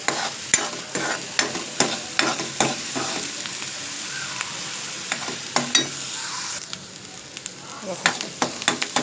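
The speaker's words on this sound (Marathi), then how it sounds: "हे मसाला भाजतो ना आपण, त्याच्यात थोडंसं मीठ टाकायचं भाजताना" Masala fries and sizzles in a pan for a village-style chicken curry, a steady close hiss punctuated by repeated sharp scrapes and clanks of a spatula stirring against the pan.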